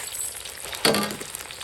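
Garlic, ginger, ciba chili paste and Sichuan pepper stir-fry in a wok for street-stall hotpot, sizzling steadily and then flaring into a sudden louder hiss partway through before settling back.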